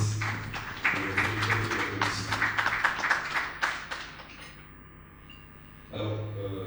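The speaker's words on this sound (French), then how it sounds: "J'aimerais vous demander d'applaudir cette fois pour un concert qui m'a fait la gentillesse." Audience applause at the Bénin Investment Forum 2021 business event: a burst of scattered clapping over about four seconds that thins out, with a voice speaking over and after it.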